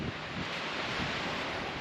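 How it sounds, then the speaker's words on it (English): Wind at a campsite near the Colorado River, a soft, steady rushing hiss with low rumble and no pauses. "it's so windy here."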